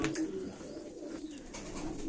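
Turkish tumbler pigeons coo close by in a soft, continuous burble of calls with light background noise and no talk.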